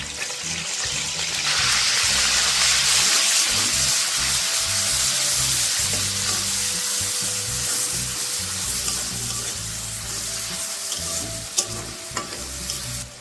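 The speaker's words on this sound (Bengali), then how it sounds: "তো এই তেলেই কিন্তু আমি আর একটু তেল দিয়ে মশলাটা কষিয়ে নেব।" Onion, ginger and garlic spice paste frying in oil for a jackfruit kalia, a steady loud sizzle with scraping stirring throughout, no voices.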